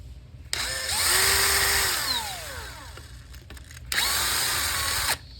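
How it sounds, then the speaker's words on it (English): A power driver backs out T20 Torx screws in two sustained whining bursts, the first about three seconds long with the pitch sagging and rising as it works, then a short second burst after a brief pause, close and loud. "We're just going to remove them as shown, starting with you can start with this one here."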